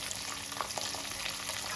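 Hot oil sizzles and crackles steadily at close range as chopped green chilies fry, a dense bright frying hiss with small pops throughout.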